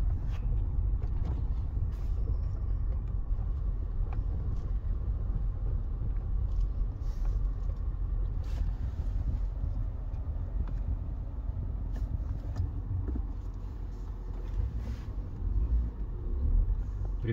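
A 1990s BMW M5 E39 with a manual gearbox on the move, steady low engine and road rumble heard from inside the cabin, continuous and fairly even with occasional faint clicks and knocks.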